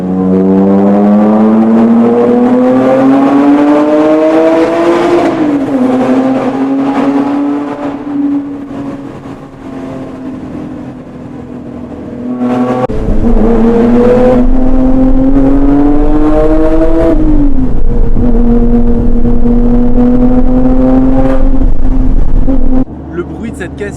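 A Lotus Evora S with about 450 hp accelerates through a short tunnel, its engine note rising twice in loud, reverberant sweeps with a brief easing between pulls.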